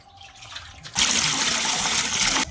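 Water is poured into a cooking pot to boil jackfruit, a sudden close splashing gush that starts after a second of quiet and runs steadily for about a second and a half before stopping.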